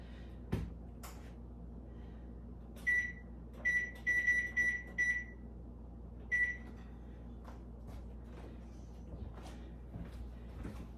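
A kitchen oven timer gives a series of short electronic beeps as it is set, several in a quick cluster and one more a moment later, amid quiet clicks and handling sounds in a calm room.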